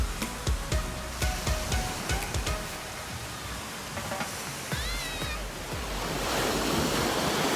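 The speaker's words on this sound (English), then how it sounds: "Look at the ocean." Ocean surf rolls onto the beach at Gulf Shores, a steady broad wash of breaking waves with wind buffeting the microphone, scattered thumps and a brief high squeal, swelling louder toward the end.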